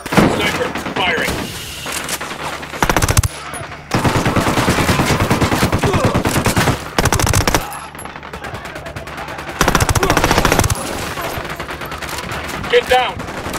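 Sniper shots and bursts of automatic gunfire ring out in the video game Ghost Recon Wildlands, loud repeated volleys separated by brief lulls, with voices speaking between the shots.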